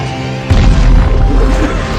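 In a battle from the 2016 film The Great Wall, black-powder arrows blast a creature apart: a single loud, deep boom bursts in after a brief lead-in and rumbles on with crashing debris.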